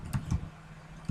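A few soft, quick clicks of typing on a computer keyboard, close and quiet, spaced irregularly with short pauses between keystrokes.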